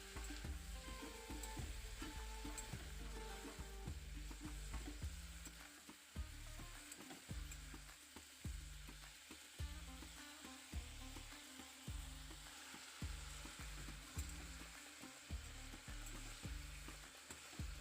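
Yardlong beans stir-frying in a pan, a steady loud sizzle under regular rhythmic scrapes and knocks of a spatula turning the beans, close and continuous, with no speech.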